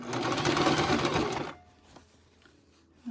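Sewing machine running steadily and loudly for about a second and a half as it stitches rickrack onto a qaspeq cuff, then stopping abruptly, leaving quiet handling noises.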